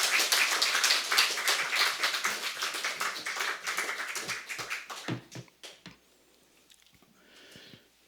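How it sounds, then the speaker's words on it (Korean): A church congregation gives a speaker warm applause at an early morning service: dense, loud clapping that gradually thins to a few scattered claps and then near silence. "우리 강사님 나오실 때 큰 박수로 환영해 주시기를 부탁드리겠습니다."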